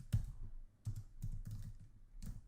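Keys clack on a computer keyboard in short, quiet bursts with small gaps between them, close by and faint, with no voices.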